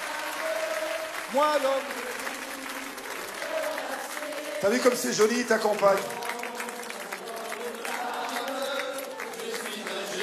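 A live concert audience applauds steadily at a French music show, a continuous wash of clapping running under singing and spoken voices throughout.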